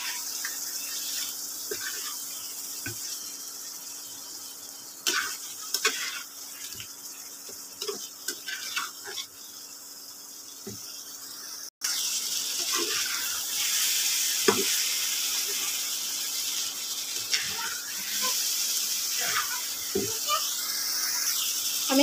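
Magur catfish frying and being stirred in a pan as it is cooked down for a mustard-paste curry, a steady sizzle that grows louder partway through, with scattered scrapes and clinks of stirring and no talk.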